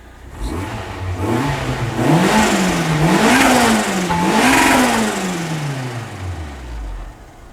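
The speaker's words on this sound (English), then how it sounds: "So let me go ahead and press the throttle." Car engine revving repeatedly as the throttle is pressed in rising and falling bursts after a new throttle position sensor was fitted, loud and close with no talking, settling back toward idle at the end.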